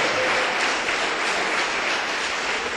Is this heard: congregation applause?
yes